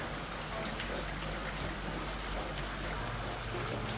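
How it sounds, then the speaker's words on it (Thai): Steady rain falls continuously as a storm arrives over a raft house on the Khwae River near Erawan, Kanchanaburi, Thailand, a dense even hiss of drops pattering on surfaces, with no voices. "ตอนนี้ฝนก็จะตกแล้วนะครับพายุมา"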